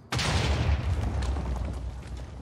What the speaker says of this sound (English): It's going to make an explosion and lightning, and it also shoots 2 spells at once.